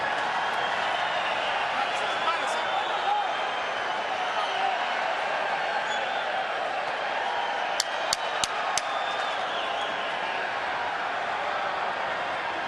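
A fired-up crowd at a boxing match at the MGM arena in Las Vegas roars in a steady, dense wash throughout, with a few sharp claps or thuds near the middle, under commentator talk.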